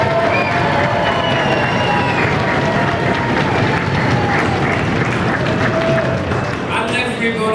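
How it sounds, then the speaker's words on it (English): A cabaret audience at the Sousse Palace in Tunisia roars continuously, with tables banged and people screaming and shouting in a dense, loud crowd wash that holds steady throughout. "please, bang your table, scream and shout, make as much noise as you can"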